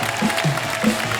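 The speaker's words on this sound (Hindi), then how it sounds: "NRI वाइफ्स के लिए एक बार जोरदार ताली।" Studio audience applause on a television chat show, a dense steady wash of clapping that holds at an even level for just over a second.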